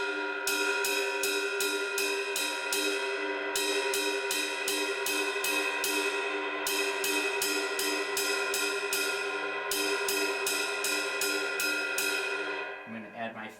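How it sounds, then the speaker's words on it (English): A drum set ride cymbal taps out a steady rhythmic pattern in repeated groups of quick, crisp strokes over a sustained ringing wash, close and clear with no other instruments. "the ride cymbal would sound like this"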